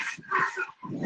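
A small dog barks and yips in quick bursts, close and fairly clear, a few sharp calls with brief gaps in between.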